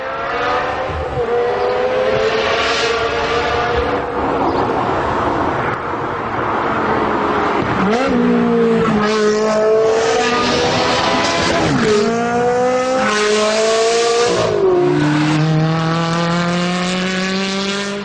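A Ferrari 360 Challenge Stradale engine with a sports exhaust revs loudly and continuously in hilly country, its pitch climbing and dropping through gear changes with no pauses.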